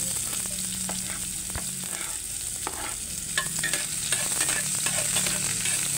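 Minced garlic, onion and ginger aromatics sizzle in a hot pan, a steady frying hiss broken by scraping stir strokes throughout, close and fairly loud with no talk.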